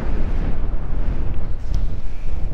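Strong wind on a mountaintop in Tanay, Rizal buffets the microphone in a constant low rumbling roar, loud and close, with no voices.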